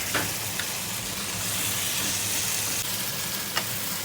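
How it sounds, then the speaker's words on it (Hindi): Chicken and chana daal frying in a pan, a soft continuous sizzle and hiss with a few brief clicks of stirring, fairly quiet and close, with no talking. "तो हम इसको थोड़ी देर भूनने देंगे"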